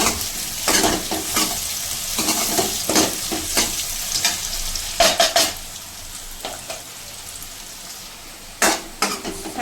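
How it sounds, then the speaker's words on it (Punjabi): Chopped onions and green chillies sizzle steadily in hot oil, with repeated scraping stir strokes and spatula clatter against the pan, close and fairly loud with no talking. "ਹੁਣ ਅਸੀਂ ਹਰੀ ਮਿਰਚ ਵੀ ਨਾਲੇ ਪਾ ਦਵਾਂਗੇ ਪਿਆਜ਼ਾਂ ਦੇ ਨਾਲ ਇਹ ਵੀ ਚੰਗੀ ਤਰ੍ਹਾਂ ਪਿਆਜ਼ਾਂ ਦੇ ਨਾਲ ਹੀ ਭੁੰਨ ਲਵਾਂਗੇ"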